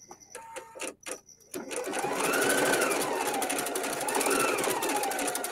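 Husqvarna Viking embroidery machine stitching the first colour of a design on felt over stabiliser: a few clicks and beeps as it starts, then a steady, close, rapid mechanical chatter of the needle running continuously.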